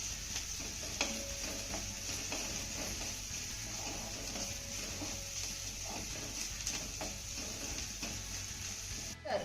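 Fried bitter gourd is stirred into softened onions in a pan, a steady sizzle underneath light, repeated scraping and stirring clicks, fairly quiet and close with no talking.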